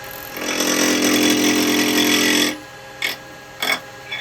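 Wood turning on a lathe with a 5/8 spindle gouge, a loud sustained rough cutting whine for a couple of seconds, then two short bursts as the tool touches the spinning wood again, close up with no talk.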